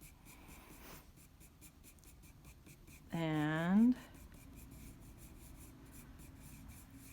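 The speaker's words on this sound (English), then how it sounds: "I'm using real light pressure here with my pencil so that it looks lighter." Light, rhythmic scratching of a pencil shading on paper with gentle pressure in curved strokes, faint and close, broken by a brief voiced word partway through.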